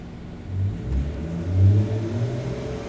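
BMW M240i in comfort mode, a steady, muffled mid-pitched exhaust drone that rises slightly in a gentle rev and settles again, with no pops or crackles.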